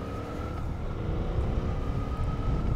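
A Suzuki 800DE motorcycle engine running on the road, a steady low drone with a faint whine on top, holding an even level throughout without anyone speaking.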